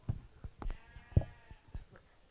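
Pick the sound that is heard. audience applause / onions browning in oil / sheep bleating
sheep bleating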